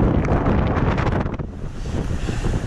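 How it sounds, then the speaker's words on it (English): Strong wind from a passing squall roars steadily across the microphone on an exposed stretch of the Overland Track, a loud broadband buffeting with gusts that ease slightly partway through. "It's got this big passing squall"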